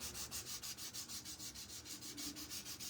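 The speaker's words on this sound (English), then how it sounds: "I'm going to go ahead and do my corners and my edges and make these just a little bit more sanded down than the rest" A wooden piece is hand-sanded along its corners and edges in even back-and-forth strokes, producing a rhythmic, close, soft rasping that repeats about every fifth of a second and is heard alone.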